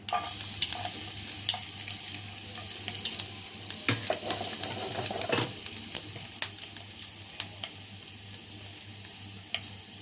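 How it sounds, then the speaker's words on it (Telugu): Finely chopped garlic frying in oil in a pan, the start of a creamy white sauce pasta, with a constant close sizzle and frequent sharp scraping stir clicks throughout, no voices. "ఇప్పుడు కొంచెం ఆయిల్ వేస్తున్నానండి. ఇప్పుడు ముందుగా చిన్నగా కట్ చేసుకున్నామండి ఎల్లుల్లిపాయలు, ఇవి వేసుకోవాలి."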